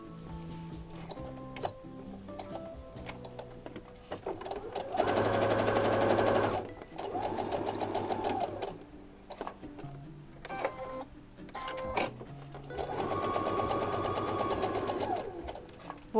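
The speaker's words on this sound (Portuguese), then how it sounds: "Agora a gente vai à máquina para costurar vindo dessa parte, dando a volta, parando aqui." A sewing machine stitches fabric for a cat-print alcohol bottle holder, running in two clear bursts of rapid, steady whirring with pauses and faint handling noise between them.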